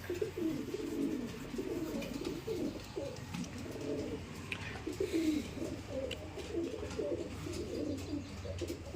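Pigeons kept in a home loft, nesting on eggs, cooing in overlapping low rolling calls, steady and close throughout, with no talking.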